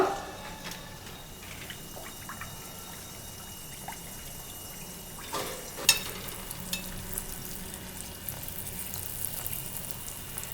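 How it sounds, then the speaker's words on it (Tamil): Athirasam sweet dough frying in hot oil: a soft, steady bubbling sizzle, with a sharp splash and crackle near the middle as dough drops in, then a brighter, busier frying hiss that continues to the end. "எண்ணெய் காஞ்சிச்சு. நம்ம தட்டி வச்ச அதிரசத்தை போட்டுடலாங்க."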